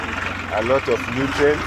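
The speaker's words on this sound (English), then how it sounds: "So this tractor now is working." A tractor engine running steadily while ploughing a farm field, a low, continuous rumble heard under a man's close speech.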